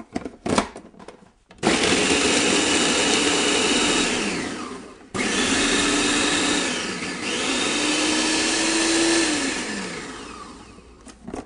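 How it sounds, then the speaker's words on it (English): A blender whirs loudly in two long bursts with a short pause between, the motor pitch shifting as kafta ingredients churn and puree. "I'm gonna start this puree. It's gonna get a little noisy."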